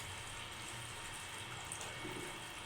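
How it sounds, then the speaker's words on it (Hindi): Water is poured steadily into a bowl of long, thin-cut raw potato slices for French fries, a continuous close rushing splash with no speech. "अब इसमें पानी ऐड करेंगे।"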